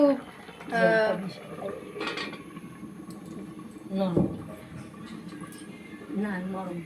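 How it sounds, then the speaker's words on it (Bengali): A metal lid clanks as it is lifted off a pot of mango chutney simmering in a home kitchen, with a sharp knock near the middle and softer pot and utensil sounds around it, partly under a voice. "মা ঢাকনাটা উঁচু করছে"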